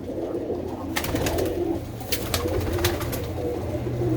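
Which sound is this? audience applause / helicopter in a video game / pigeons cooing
pigeons cooing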